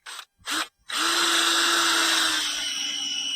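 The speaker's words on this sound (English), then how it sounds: "So then you angle your drill up." A few short bursts, then a power drill whirs steadily at close range boring into a tree trunk to tap it for sap, its high-pitched motor whine holding level until the end.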